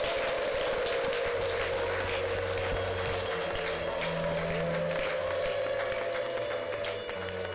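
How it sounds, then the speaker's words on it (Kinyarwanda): A church congregation at a prayer service applauds and ululates to welcome Jesus, a continuous wash of clapping and high trilling voices over a steady low sustained tone. "Fashe twakire Yesu n'amashyi n'impundu byinshi"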